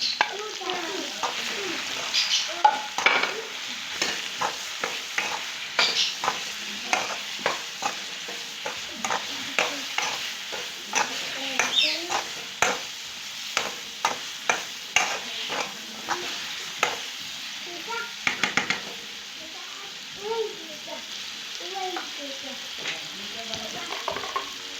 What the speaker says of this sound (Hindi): अब इसी जो मैरिनेट चिकन है वो इसमें डालेंगे एंड सारा जो मसाला है वो भी डाल दें।